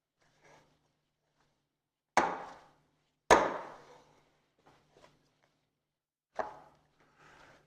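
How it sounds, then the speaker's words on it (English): Pizza dough kneaded by hand on a work surface, heard as a few scattered soft thumps and slaps with quiet gaps between them and no talking. "We're going to knead it for about 5 minutes."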